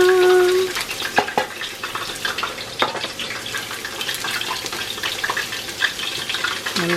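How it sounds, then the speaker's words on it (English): Pork, carrots, onions and garlic get stirred in a hot pan for Korean jjajangmyeon: a spatula scrapes and clatters against the pan over a continuous close sizzle, with a few sharp knocks. "I'm just going to stir that around"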